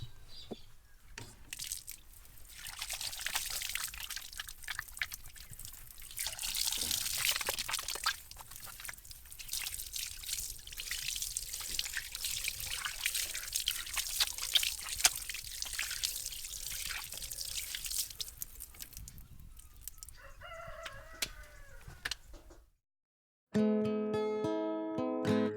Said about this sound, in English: and then water that in well.